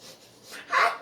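A voice imitates a kitten's sneeze, a short breathy burst that swells to a sharp peak near the end, heard alone with no talk.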